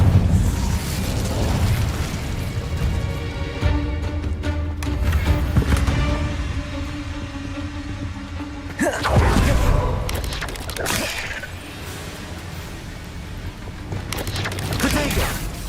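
Fire spell bursts cast in Hogwarts Legacy: several crackling whooshing blasts and booms over a rumbling game background, with one sharp burst standing out midway and a spoken voice now and then.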